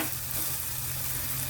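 An oats vegetable uttapam sizzles on a hot pan just after being flipped, giving a steady, close crackling hiss with no voices.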